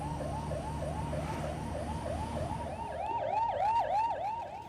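An ambulance siren wails in city traffic in Delhi near Laxmi Nagar, a rapid repeating up-down yelp that grows louder and gains a second overlapping siren toward the end.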